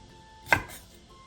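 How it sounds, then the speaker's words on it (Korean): A knife cuts through a butterbur stalk with a single crisp chop onto a board, close and brief in an otherwise quiet kitchen. "머위대를 길게 반으로 가른 뒤 3cm 정도 길이로 잘라주세요"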